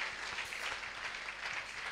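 A church congregation claps together in a dense, steady wash of applause, moderately distant and continuous for a couple of seconds, with a faint murmur of voices underneath.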